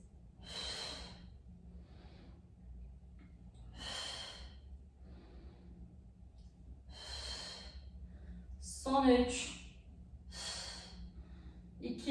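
Rhythmic breathing in and out during a postpartum exercise session: five or six close, airy breaths spaced about every one and a half seconds, one louder burst near the end, quiet between.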